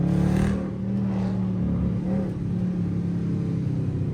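Several Dodge Charger Scat Pack cars running with their hoods removed cruise through a city, producing a loud, steady low engine rumble from close by, with a slight swell of revving near the start and no talk.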